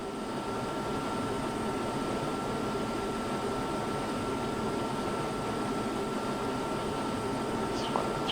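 A jet engine drones steadily inside the Falcon BMS 4.37 flight simulator while the aircraft flies a box pattern, a constant loud roar with a faint tonal whine and no talk.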